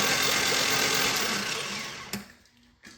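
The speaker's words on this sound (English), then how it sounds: "Clutch in, stop, clutch out, keep spinning, clutch in, stop." A Turbo Cavalier's new clutch engages and disengages with the wheels spinning: a steady mechanical whir that fades after about two seconds, then a sharp clunk and a quieter tail with another brief knock near the end, no talk.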